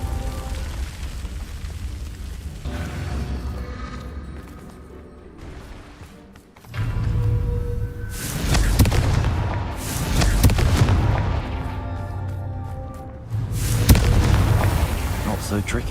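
Confringo fire spell explosions in the video game Hogwarts Legacy, a series of booming blasts and bursts with a rumbling low end, fairly loud and repeating over about ten seconds against a continuous game soundscape.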